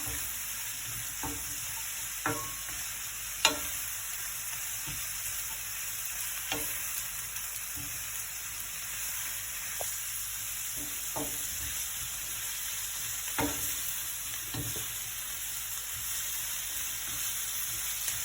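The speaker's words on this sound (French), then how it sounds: "On va ajouter les épices. On va mélanger tout ça." A steady sizzle of filling frying in a pan, spices being stirred in, with the hiss continuous and scattered clicks and scrapes of a spoon against the pan.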